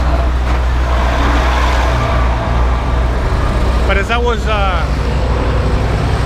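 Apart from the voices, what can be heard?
street traffic during Noche Blanca in Merida, Mexico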